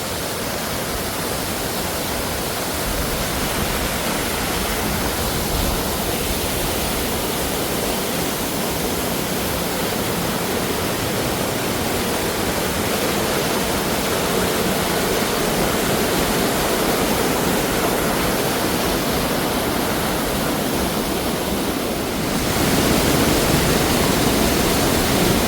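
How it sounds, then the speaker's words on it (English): A waterfall in Sapadere Canyon pours in a steady, loud, broadband rush that fills the whole stretch, swelling slightly near the end, with no voices. "Here's the next waterfall."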